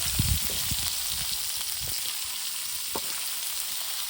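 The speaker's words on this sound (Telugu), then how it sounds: "ఫ్రెండ్స్ చూసారు కదా ఎంత బాగా ఫ్రై అవుతుందో" Spicy chicken fry sizzling in a pan, a steady close hiss of hot oil with a few soft stirring knocks near the start, no voices.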